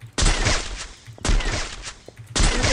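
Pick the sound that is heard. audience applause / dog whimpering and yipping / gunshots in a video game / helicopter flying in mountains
gunshots in a video game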